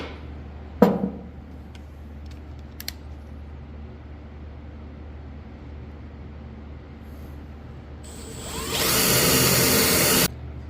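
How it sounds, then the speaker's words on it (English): A power drill bores a 5/16 hole in the top of a 1982-93 Chevrolet S10 pickup tailgate, a loud, close, steady high whine lasting about two seconds after quieter clicks and handling noises. "go ahead and drill your 5/16 hole on the top."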